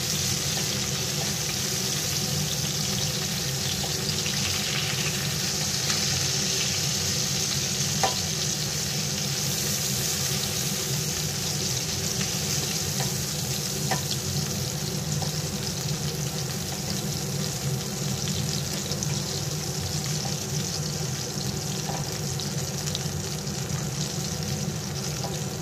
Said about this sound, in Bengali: দেখতেই পাচ্ছ খুব সুন্দরভাবে ভাজা হয়ে গেছে মাছগুলো।